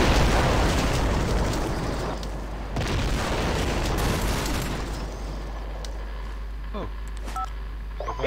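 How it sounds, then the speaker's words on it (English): An enemy airstrike pounds the ground in a video game battle, with heavy, rumbling explosions that roll on for several seconds, then fade into quieter sounds while voices talk over the din. "Enemy airstrike inbound!"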